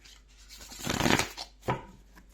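Tarot cards shuffled by hand in a quiet room, a soft riffling flurry building to a louder burst then a short second riffle, with no voices.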